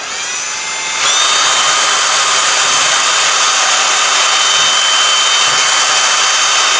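A small wire brush scrubs corrosion off a metal part, producing a loud, steady, hissing scratch that starts abruptly after a brief quieter moment and continues without pause.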